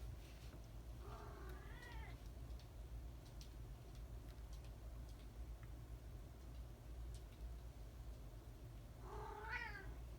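A pet cat named Copper meows twice, a rising call near the start and another near the end, close by over a steady low hum indoors in a resin-crafting workspace.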